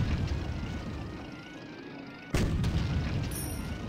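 Tank cannon fire in the Madagascar video game: a continuous low rumbling barrage, then a sharp, loud boom near the middle followed by heavy sustained blasting, with no talk.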